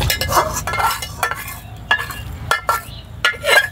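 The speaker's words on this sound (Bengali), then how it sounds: "এবার থালার মধ্যে ঢেলে নেব।" Hot soan papdi sugar-and-flour mixture scraped out of a pan onto a ghee-greased plate, irregular clinks and scrapes of a utensil on metal over a faint sizzle, close and fairly loud, no voices.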